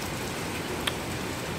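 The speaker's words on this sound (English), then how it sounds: "Oh, that was very heavy." Heavy rain pours steadily outside during the first autumn rain, an even, close hiss with a single faint tick partway through.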